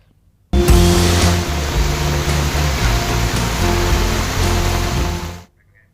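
Heavy rain pours down in a dense, loud, unbroken hiss that begins abruptly, holds steady for about five seconds, then cuts off, with no voices over it.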